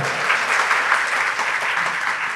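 An audience at an organised gathering applauds, a dense, even wash of many hands clapping together that holds steady at full volume for a couple of seconds.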